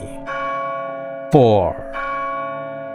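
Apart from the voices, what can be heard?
church bell tolling at noon, from video game The House in Fata Morgana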